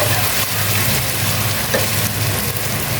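Jackfruit, potato and prawns frying in a pan, a steady loud sizzle with faint stirring scrapes throughout.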